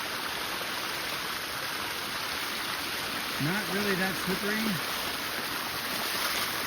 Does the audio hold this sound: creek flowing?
yes